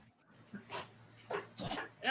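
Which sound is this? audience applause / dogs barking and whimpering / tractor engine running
dogs barking and whimpering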